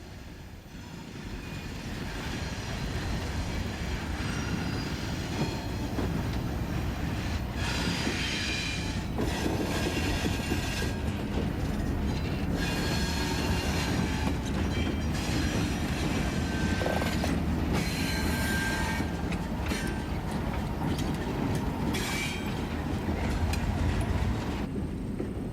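Steady, loud rumble of a train led by an ALCO RSD-15 diesel locomotive, former Santa Fe 843 later used by Squaw Creek Coal in southern Indiana, rolling past close with wheel squeal and clatter throughout, no voices.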